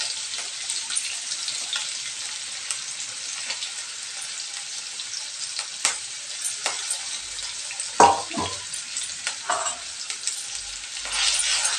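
Chopped vegetables fry in hot oil in a home kitchen while the cook stirs, producing a steady close hiss and crackle with occasional scrapes and clinks of a utensil against the pan, and no talking.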